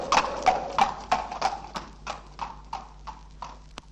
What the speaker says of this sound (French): quand il y eut un bruit de chevaux.